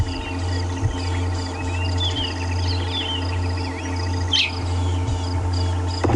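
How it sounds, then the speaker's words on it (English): Several birds sing and chirp in the early morning on an African safari drive, with varied calls layered over a steady low hum and faint insect buzz in the open bush, with no voices. "But for now, it's just the morning bird song."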